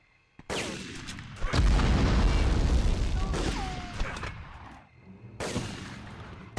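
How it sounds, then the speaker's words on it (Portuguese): Grenade explosion in the PS1 video game Medal of Honor: a loud, sustained blast with a low rumble lasting a few seconds, then a pause and another burst of blasts and gunfire. "Vou jogar uma granada"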